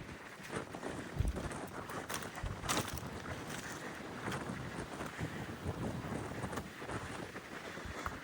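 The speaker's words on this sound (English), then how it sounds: "Getting quite windy." Gusty wind blows steadily outdoors in an open prairie setting near old grain elevators, buffeting the microphone with continuous rough rumble and occasional stronger gusts, no voices.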